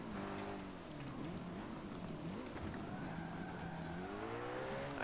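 A race car in Forza Motorsport 7 held at full throttle, its engine note climbing and dipping through gear changes in a steady, fairly quiet drone that runs throughout.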